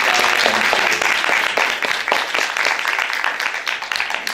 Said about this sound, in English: One last round of applause for Edith and Tom.